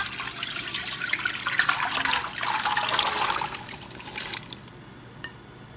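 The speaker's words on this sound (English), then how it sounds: "I'm just gonna add enough water in it to cover the potatoes" Tap water runs and splashes into a pot holding potatoes for a vegetarian Zanzibar mix, a steady loud pour lasting several seconds before tapering to a faint trickle.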